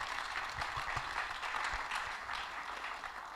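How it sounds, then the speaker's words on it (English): Applause from a conference audience, fairly faint and distant, a dense patter of many hands with a few sharper claps standing out, easing slightly toward the end. "Can I have a big round of applause for all of them?"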